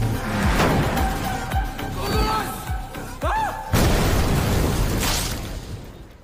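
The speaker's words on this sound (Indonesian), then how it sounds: "bom waktu yang dipasangnya akan segera meledak" A time bomb goes off in a film scene: one heavy, booming blast erupts partway through, layered over dramatic score and earlier smaller impacts, loud and close.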